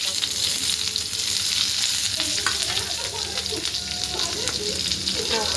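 Onion fries in oil in a pan, making a steady, dense sizzle with stirring clatter mixed in. The sound stays fairly close and continuous throughout.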